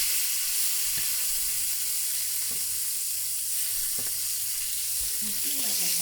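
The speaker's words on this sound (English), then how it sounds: "I feel like the butter is burning, but let's keep doing this." Steak frying in browning butter in a pan gives a constant hissing sizzle, broken by a few soft thuds and utensil knocks, with a brief murmur near the end.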